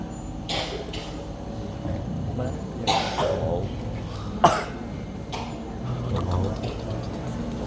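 Several short dry coughs scattered among people talking in a room, with faint background rumble.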